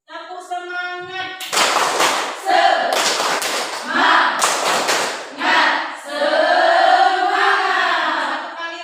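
A standing classroom of students follows their teacher in the tepuk semangat clapping chant: sharp bursts of unison claps in a quick rhythmic pattern alternate with chanted voices, close and loud, after a short spoken lead-in.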